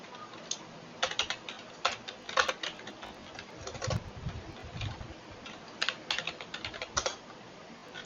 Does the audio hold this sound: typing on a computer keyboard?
yes